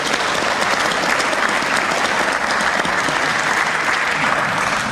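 Steady, loud applause from a debate audience at a county sheriff primary, a dense uninterrupted wash of clapping with no voices over it.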